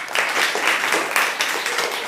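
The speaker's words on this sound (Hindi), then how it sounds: "इस बच्चे के लिए भी ताली बजा दो साहब" Applause from a group of schoolchildren at a village primary school, a steady burst of close, dense clapping lasting a couple of seconds.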